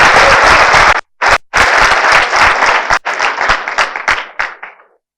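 A close, loud burst of audience clapping at a business event, breaking off briefly, then resuming as a dense patter that thins into scattered claps and fades out.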